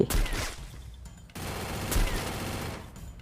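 Sniper rifle shots from the Free Fire mobile game ring out in two sharp, loud reports about two seconds apart, each trailing into a brief echo under steady in-game background noise.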